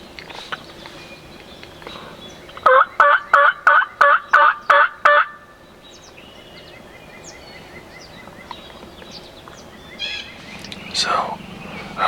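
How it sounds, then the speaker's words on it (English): A wild turkey at dawn in Ohio woods and fields lets out a sharp, rattling gobble, a rapid burst of about eight pulses, fairly close, followed by quiet outdoor ambience, soft whispering and faint bird calls. "He's been gobbling his head up since legal light has come in, and there he was again."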